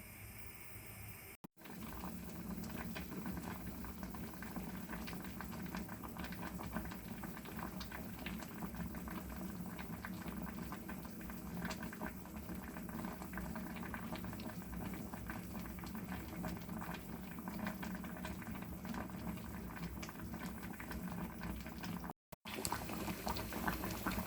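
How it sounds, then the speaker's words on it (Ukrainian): Pumpkin pieces with sugar stew gently in a pot on low heat, a steady faint bubbling and simmering patter that runs continuously with a couple of brief cuts and no talk. "Отак він у мене тушкується на маленькому вогнику."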